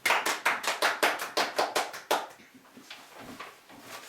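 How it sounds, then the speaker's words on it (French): A small audience claps in a steady rhythmic beat for about two seconds, each clap distinct and close, then the applause thins into a few scattered claps. "Applaudissons-le."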